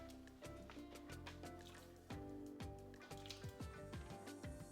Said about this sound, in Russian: Затем нарезанный картофель закладываем в кастрюлю с кипящей водой.